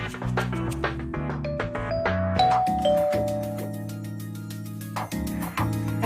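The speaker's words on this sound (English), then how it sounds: "I checked that we were ready and then rang the doorbell." A doorbell chiming in the visual novel game Collar X Malice, a sequence of clear ding-dong tones ringing several times over a steady bed of game music, with no talking.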